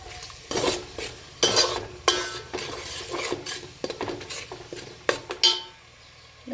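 Spice masala stirred and fried in a pot for a village fair mutton dish, a spoon scraping and clanking against metal in uneven bursts over a low sizzle.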